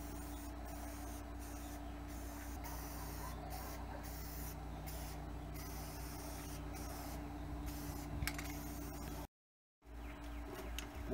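A spray can hisses in steady bursts while paint is applied to a darkride cart part, with a faint continuous hum beneath and a short silent gap near the end.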